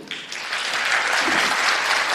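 A church congregation applauds loudly and steadily, a dense wash of clapping that builds in the first half second and then holds full and even throughout, with no voices standing out.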